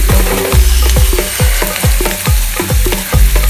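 Semolina-coated prawns fry in a pan, crackling and sizzling loudly while a utensil scrapes and stirs in a steady repeating rhythm of about two strokes per second, close up with no talking.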